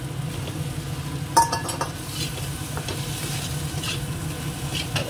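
Eggs go into a pan of frying tomato masala, setting off a steady sizzle with a sharp clink and scraping stirs of a utensil against the pan.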